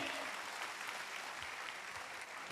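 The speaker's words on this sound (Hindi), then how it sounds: "तबीयत से ताली बजाकर अभिनंदन कीजिए।" Audience applause at a spiritual discourse in Pune, steady dense clapping from a crowd filling the space, sustained at even loudness without pause.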